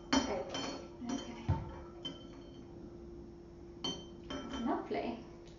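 Spoon stirring jelly in a bowl, soft clinks and scrapes against the dish coming in short bursts, with people talking quietly over it.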